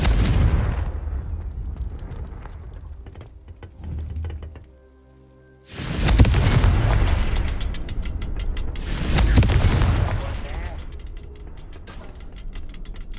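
Confringo fire spell blasts in Hogwarts Legacy: a heavy explosive boom with a decaying rumble, a brief near-silent gap, then two more loud fiery detonations a few seconds apart, each trailing off into rumbling debris.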